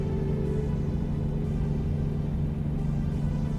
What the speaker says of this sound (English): I hear a train passing by.